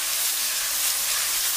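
Tofu pan-frying in a wok gives off a steady, dense sizzle that runs unbroken and close, with no voices over it.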